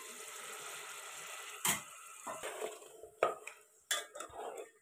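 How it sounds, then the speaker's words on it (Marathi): A spoon scrapes and clanks against a pot as chicken is stirred into a spiced tempering over a wood-fired stove, a few sharp metallic knocks over a soft background sizzle. "चिकन मस्त फोडणीमध्ये मिक्स करून घ्यायचंय."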